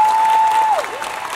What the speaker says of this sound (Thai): ขอเสียงปรบมือดังๆอีกครั้งหนึ่งให้กับทั้ง30หนุ่ม